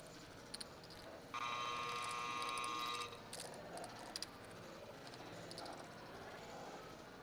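A poker action clock buzzer at a card club final table gives one steady electronic buzz of about two seconds. It sounds faint and distant against a quiet room hum.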